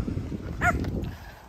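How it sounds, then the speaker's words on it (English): An agitated attack dog gives a single short yelp or bark over a low rumbling background, close and brief. "the attack dog's freaking out"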